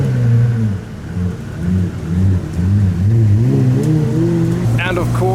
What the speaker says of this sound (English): A Pagani Zonda PS has just turned up.